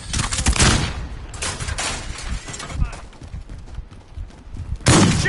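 Loud gunfire in Call of Duty Modern Warfare, with heavy volleys at the start and again at the end and scattered game noise between them.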